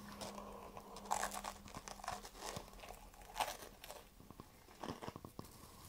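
Roasted beef marrow bone on toast topped with crunchy sea salt is chewed close to the mic, giving a quiet, irregular series of crisp crunches and crackles with soft pauses between bites.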